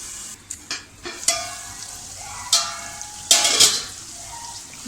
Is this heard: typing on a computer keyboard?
no